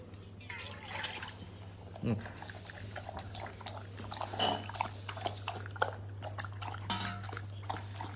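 A dog laps water in quick wet bursts with drips and splashes, close to the microphone, while a steady electrical hum runs underneath.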